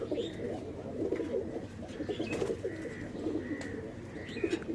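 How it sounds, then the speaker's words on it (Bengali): A flock of pigeons lands and coos nearby: soft, repeated throaty coos overlap under a faint outdoor background, with a few higher chirps mixed in. "এই যে এই যে নামতেছে কবুতর"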